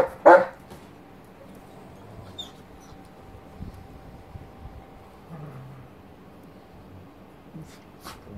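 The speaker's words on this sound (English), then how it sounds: "Wide world of doggy wrestling." Dogs play-wrestling indoors on a blanket: one sharp, close bark opens, followed by quieter scuffling, low grumbles and faint whimpers throughout.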